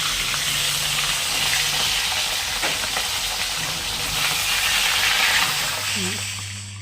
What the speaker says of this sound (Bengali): এখন মাছের মাথাগুলো ভেজে নিচ্ছে